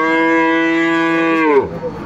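A Frisian bull calf, six to seven months old, at the Aftabganj cattle market gives one loud, close, drawn-out moo lasting about a second and a half, which breaks off into quieter market background.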